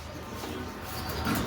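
Pigeons offered for sale give soft, low cooing that is faint and brief against a murky background hum.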